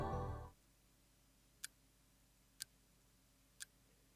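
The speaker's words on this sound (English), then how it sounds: "I hear nothing but the slow, steady tick at the clock." In the Steins;Gate game, a clock ticks three times at slow, even one-second intervals. Each tick is crisp and isolated against near silence, after a brief louder sound fades out.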